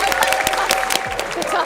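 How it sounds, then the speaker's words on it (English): Audience clapping for the finishers of a GT World Series race in London, a dense patter of hands with broadband crackle and a steady tone running underneath. "Should we give them a big round of applause?"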